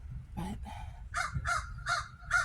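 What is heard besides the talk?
crow cawing in a tree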